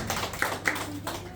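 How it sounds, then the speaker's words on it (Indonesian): A congregation at a church sermon claps briefly, a short burst of close, dense applause lasting about a second. "Tepuk tangan buat Pak Guru"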